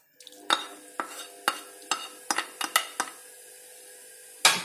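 Fruit and corn tumble into a salad bowl, followed by a quick series of sharp clinks and knocks as the mix is tossed, with a final loud clatter at the end and no talk.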